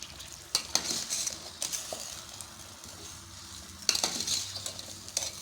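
Chicken karahi being stirred in a pan, a soft sizzle under several scraping, clattering spoon strokes that come in short bursts, heard up close.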